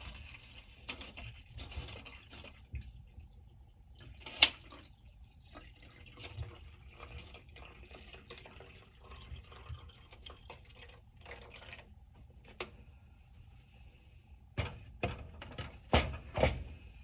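Rosemary-infused water poured into a water bottle, with faint trickling and dripping splashes and a few louder liquid bursts near the end, quiet overall with no talk.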